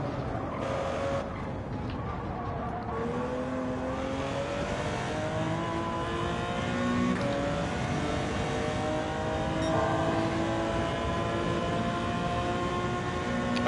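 Racing car engine in Gran Turismo 7, played on a G29 wheel, holding a steady high-revving drone with a slowly rising pitch over a long continuous stretch, loud and alone without speech.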